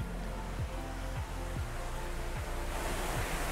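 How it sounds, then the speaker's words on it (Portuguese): A backyard waterfall at a house in Saquarema rushes as a steady broadband roar, loud and close, with a few low thumps beneath. "para o barulho da cascata também não interferir muito no áudio"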